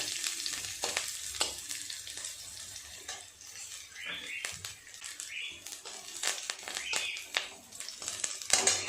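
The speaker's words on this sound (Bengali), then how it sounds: "দিয়ে দেব সর্ষে ফোড়নের জন্য দিয়ে দেব কারি পাতা এগুলো একটু নেড়ে চেড়ে ভেজে নেব" Mustard seeds and curry leaves fry and are stirred in hot oil for a flattened-rice vegetable pulao, giving a close crackling sizzle broken by sharp scrapes and clatters of the utensil.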